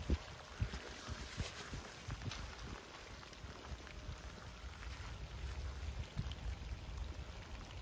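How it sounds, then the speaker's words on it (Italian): Rain falling during a fishing session, a soft, continuous patter of drops on nearby surfaces with a few louder taps and a faint whistling tone above it, fairly quiet and without speech. "Ehi ragazzo, sotto la pioggia!"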